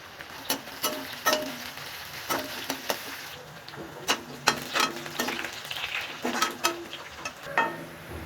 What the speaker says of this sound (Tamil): பாருங்கள், வெங்காயம் நல்லா பொரிஞ்சு கோல்டன் ப்ரௌன் ஆகிடுச்சு